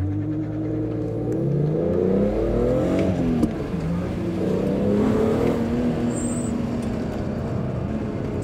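A BMW Z4M Coupe with its S54 engine accelerates hard on a race track during a track day, the engine note climbing through the revs and shifting gears, loud and close from inside the car.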